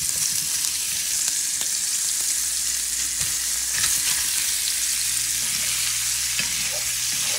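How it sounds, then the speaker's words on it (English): Spicy sausage balls fry in olive oil in a hot pan, giving a continuous loud hiss and crackle with occasional sharp pops and light stirring clicks. "Add some olive oil in the hot pan and toss those beauties in the pan."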